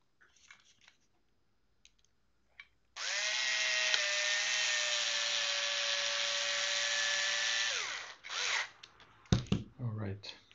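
A screw is driven into the center of a servo on a 3D-printed humanoid robot leg with a bearing fitted, a steady whirring drone of about five seconds, close and loud, followed by brief handling clatter.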